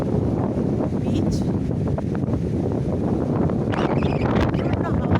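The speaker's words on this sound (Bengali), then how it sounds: "প্রচণ্ড হাওয়া দিচ্ছে, প্রচণ্ড গাছ মানে ঝড়ের মতন হাওয়া দিচ্ছে" Strong, storm-like wind buffets the microphone at Chidiya Tapu beach near Port Blair in the Andaman Islands, a continuous loud roar with gusts and brief higher rustles.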